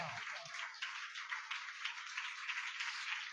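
A church congregation clapping hands steadily together in worship, a dense continuous patter of many hands at moderate distance, fairly faint, with no talking over it.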